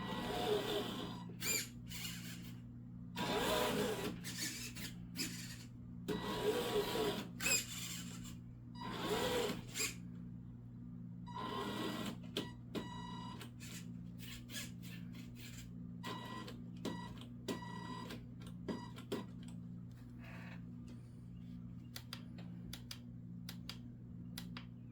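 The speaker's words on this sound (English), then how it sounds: "Steering doesn't seem bad. Very noisy servo though." Noisy steering servo on a Toyota FJ40 RC car buzzing and whirring in short repeated bursts, close up, with a steady low electrical hum underneath and no talk.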